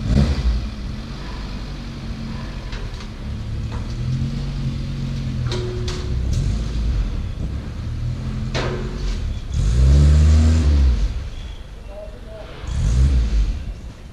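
A classic Mini's engine hums and revs in bursts as the car is driven up onto a trailer, with a few louder surges near the end and people talking over it.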